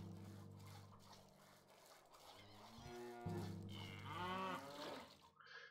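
Cattle low in the Stronghold strategy game, several drawn-out moos overlapping in close succession, clear and isolated against a quiet background.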